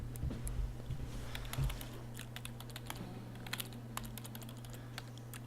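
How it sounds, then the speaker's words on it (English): Computer keyboard typing from the visual novel Everlasting Summer, a steady run of light clicking keystrokes over a low constant hum, fairly quiet and continuous with no talk. "Oh, keyboard."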